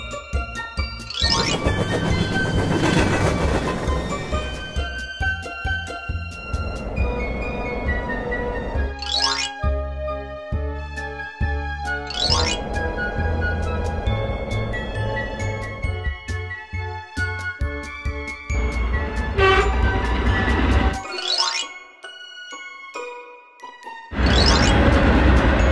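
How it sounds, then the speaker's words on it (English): An animated cartoon street train sounds off with a horn: bright chiming jingles and repeated rising tonal blasts, loud and steady, with a short silent gap near the end before a final burst. "Street train."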